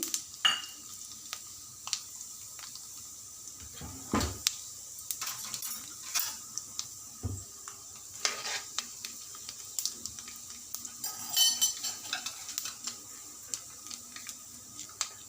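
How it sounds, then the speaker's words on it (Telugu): Cumin, mustard seeds, urad dal and chana dal tempering in two spoons of hot oil for a brinjal curry, scattered crackles, pops and small clinks over a quiet background, close and fairly faint. "ఒక రెండు స్పూన్ల ఆయిల్ పోసి జీలకర్ర ఆవాలు మినపప్పు శనగపప్పు అన్ని పోపులు వేసి"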